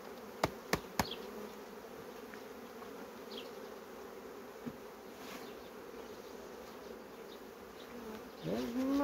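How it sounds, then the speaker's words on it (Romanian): Honeybees buzz steadily around hive frames from a weak colony during brood handling, a dense close drone with a few sharp knocks near the start and a rustle at the end. "Aici era mai plină cu albine."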